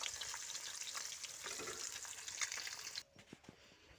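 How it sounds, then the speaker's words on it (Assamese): Fish frying in a wok, a faint soft sizzling hiss with light scattered crackles that drops away abruptly near the end, leaving a few quiet clicks. "আৰু এয়া চাওক মই মাছ ফ্ৰাই কৰি ল'লোঁ কেইটামান আৰু আছে ফ্ৰাই কৰিবলৈ কৰি আছোঁ"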